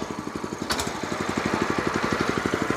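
A walk-behind tractor's small engine chugs in a steady, rapid rhythm close by while the machine is shifted into reverse gear, with a brief clunk partway through and no talking.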